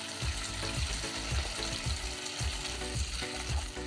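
Onion, garlic and ginger juice sizzling in a butter tempering, a loud, steady frying hiss that runs throughout, with rhythmic stirring pulses and no voices.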